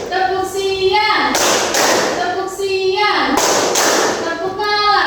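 A classroom of children performs a rhythmic clapping game, loud bursts of hand claps repeating in steady groups, alternating with a teacher's voice calling out the cues.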